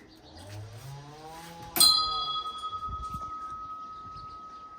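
A bell on a spun Tibetan prayer wheel at an ancient Buddhist site in India gives one bright, clear strike that rings on with a long, slowly fading tone after a soft rolling rumble of the turning wheel.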